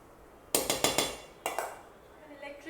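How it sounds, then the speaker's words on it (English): A spatula knocks and clinks against a bowl while mixing chocolate cake batter, a quick cluster of four sharp taps followed by a few more, fairly close. "With the help of the spatula, we will be mixing it"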